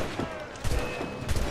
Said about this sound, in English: Apparently I do have an auto cannon